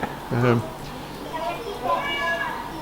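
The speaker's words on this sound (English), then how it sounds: "here's the shouty cat" A loud, shouty cat meows outdoors by a house under construction, with one strong meow followed by fainter cries.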